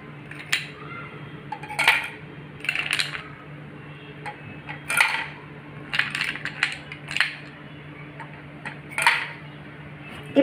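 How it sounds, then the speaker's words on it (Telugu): Ice cubes dropped into glasses for a dry fruit milkshake in a home kitchen, giving several separate clinks and rattles spread over about ten seconds, close and fairly clear over a low steady hum. "ముందుగా మనము ఐస్ క్యూబ్స్ వేసుకుందాము."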